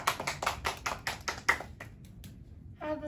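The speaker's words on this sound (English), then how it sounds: "Let's have a round of applause for those amazing Eagles" A small group gives a brief round of applause for the Eagles: quick, close hand claps for about a second and a half that thin out into a few scattered claps before a short voice-like sound at the end.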